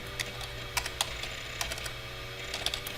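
Keys are tapped on a computer keyboard in short irregular clicks, close and fairly quiet, over a low steady room hum with no talking.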